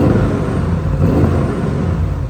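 An Audi RS7 V8 with its two exhaust mufflers removed rumbles up close, a deep, loud, continuous throb with a slight rise in revs and no voices.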